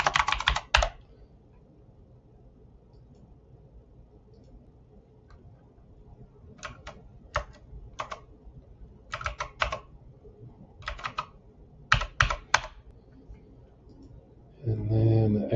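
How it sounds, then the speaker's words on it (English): Computer keyboard keys clicked in short bursts of typing, close and fairly quiet, with pauses between the bursts and a louder stretch of handling at the very end. "I'm not going to type all this in, but I'll just do a couple here."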